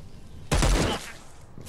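A single loud gunshot burst in the zombie video game Dead Island 2 bursts out suddenly and fades within half a second, followed by quieter background ambience.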